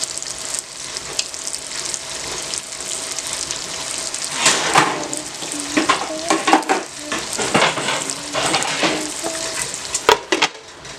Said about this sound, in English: I'm going to go ahead and let it fry a little bit